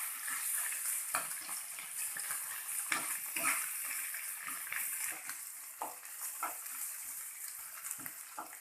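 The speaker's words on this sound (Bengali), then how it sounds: "কষিয়ে নেব।" Spices with cardamom and turmeric sautéing in a pan, a moderate sizzle broken by frequent spoon scrapes and knocks against the pan, close by and fairly quiet.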